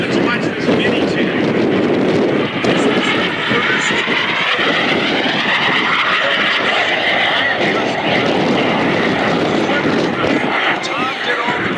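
Tom Larkin's Mini Jet flies at the 2024 MCAS Cherry Point Air Show, a loud, continuous jet roar with shifting pitch as it passes and climbs, while a commentator talks over it throughout.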